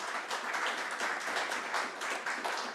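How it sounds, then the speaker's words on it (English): Audience at a government press conference applauding local doctors and partners, a steady, dense patter of many hands clapping at moderate volume with no talk over it. "I think we should give them a big round of applause"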